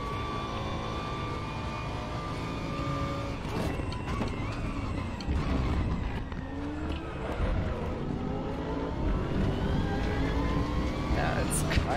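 A race car engine in the RaceRoom racing game, running a GT Masters car through corners and over bumps, revs and shifts continuously at steady loudness while someone talks over it throughout.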